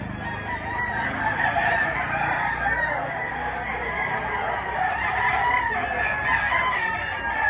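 A dense chorus of fighting gamecocks clucks and a rooster crows steadily throughout, like a crowded coop heard up close.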